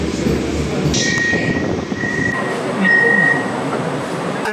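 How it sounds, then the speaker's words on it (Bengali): An AC local train on the Sealdah–Ranaghat line rolls into Sodepur station, heard from inside as a steady loud rumble with brief high squeals of braking and a swell of louder noise toward the end. "ট্রেন কিন্তু এখন 3rd স্টপেজে ঢুকে গেছে, মানে সোদপুর স্টেশন।"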